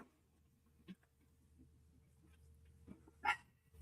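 A dog barks indoors: a soft woof early on and one sharp, louder bark near the end, against a quiet background.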